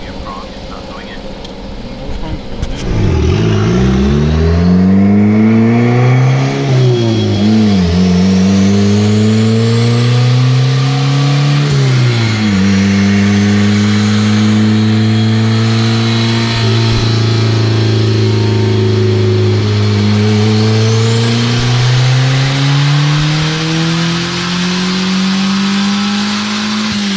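A turbocharged Honda engine with VTEC revs hard through repeated rising pulls, loud and close, its pitch climbing, dropping at each shift, then climbing again.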